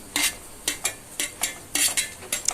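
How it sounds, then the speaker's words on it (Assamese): Carrots stirred in a pan for vegetable chowmein, a spoon scraping the pan in about seven quick rhythmic strokes, close and clear with no talking. "তাৰপাছত মই গাজৰখিনি এড কৰি লৰাই দিম"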